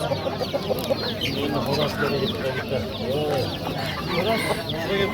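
Roosters and hens at a busy poultry bazaar in Namangan cluck and squawk continuously, close and loud, while crowd voices chatter underneath.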